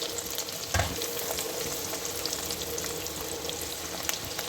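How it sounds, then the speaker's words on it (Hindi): Chana dal frying in ghee while making market-style mixed nimko, a steady soft sizzle with a faint stir near the start, continuous and close with no talking. "और इसको दाल को फ्राई करते हैं।"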